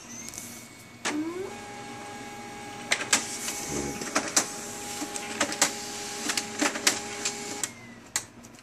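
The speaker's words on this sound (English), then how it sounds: "I want to print this in this printer." A Samsung ML1640 mono laser printer whirs into motion with a steady motor tone, then rattles through repeated clicks and clacks as paper feeds and jams midway, close and without talk.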